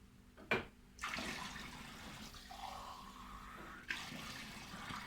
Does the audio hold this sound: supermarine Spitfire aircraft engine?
no